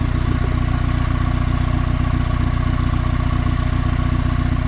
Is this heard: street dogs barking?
no